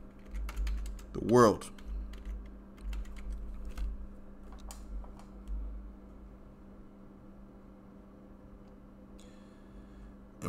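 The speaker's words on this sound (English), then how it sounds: "Let's type in the word end" Someone types a word on a computer keyboard, a quick cluster of key clicks, soft and close, while someone speaks quietly in a calm room.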